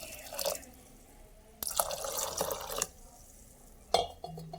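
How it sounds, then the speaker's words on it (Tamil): Water is poured from a vessel into a pot of lentils while cooking, two separate bursts of splashing pouring with quiet gaps and a final short drip and clink at close range. "தண்ணி கொஞ்சம் ஊற்றிக்கோங்க, அது ஊற்றினா பொங்கும்."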